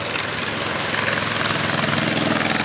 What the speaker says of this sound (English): The rumbling of this northbound I hear coming sounds like he's moving right on